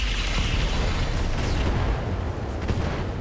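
A rocket fired and exploding in the mech combat game RogueTech, a dense, steady roar of low rumble and crackle with no break across the short span.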